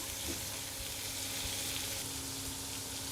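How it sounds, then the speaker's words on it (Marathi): Black chickpeas sauté in a pan with a continuous, close sizzle and faint stirring, no talking. "याला 2 ते 3 मिनिट फक्त असं परतून घ्यायचं"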